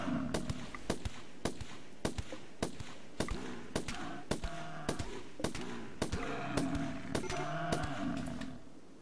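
Gunfire in the RimWorld video game: a long series of sharp, evenly spaced shots, roughly one per half second, ringing over a steady background tone with no talk.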